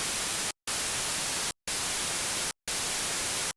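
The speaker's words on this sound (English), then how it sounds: "I'm going to play 4 white noises." Four bursts of broadband white noise (Gaussian, triangular, uniform and binary), each about a second long at steady loud level, separated by brief silent gaps; all four sound nearly identical hiss.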